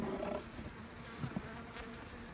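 Honey bees buzz in a small hive that is low in bee numbers and rearing a brood nest, a steady low drone heard up close with a few brief louder bumps.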